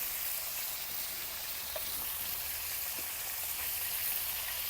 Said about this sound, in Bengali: শুকটি মাছটাকে উল্টা পাল্টা করে ভালো করে ভাজা নিব